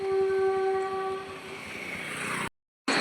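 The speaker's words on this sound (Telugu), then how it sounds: "ట్రైన్ వస్తుంది" A train passes close by near a stream, opening with a sustained horn tone that fades into a dense, rushing rumble before the sound cuts out abruptly near the end.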